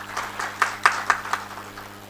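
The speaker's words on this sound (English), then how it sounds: "Round of applause to Jofin." Sparse, light applause from a small audience at a TiECON Kerala 2017 technology panel discussion, with a handful of distinct claps over a steady background hum.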